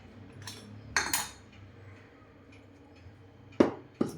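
A spoon mixes salt into idli batter in a metal vessel, producing a few sharp clinks and scrapes in short clusters against near silence, close and clear, with no speech.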